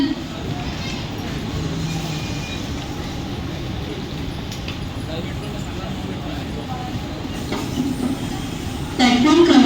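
A slow Mumbai local train arrives at a station platform as a continuous low rumble and rolling hum under a crowd murmur, with a brief squeal near the end.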